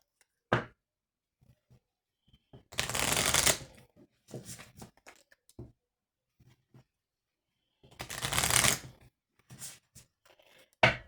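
Oracle cards are shuffled in two longer riffling bursts, with shorter taps and card handling between them, close by against quiet.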